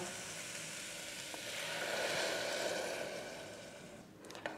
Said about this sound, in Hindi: अब मैं इसमें डालूंगी 1 कप के करीब पानी।